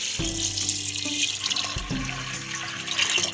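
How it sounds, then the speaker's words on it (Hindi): Water pours steadily from a jug into a metal pressure cooker holding black chickpeas, a continuous splashing rush with a brief break partway through. "अब हम इसमें 1 जग पानी डालेंगे।"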